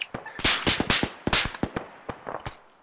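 Rapid gunfire cracks ring out during a firefight, with about a dozen sharp, loud reports in an irregular burst pattern, some single and some doubled, coming from behind the position.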